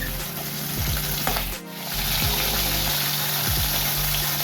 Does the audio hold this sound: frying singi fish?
yes